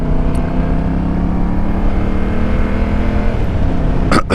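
A motorcycle rides steadily at speed, its engine giving a continuous loud drone with a faintly rising pitch, wind rushing over it, and a brief clatter near the end.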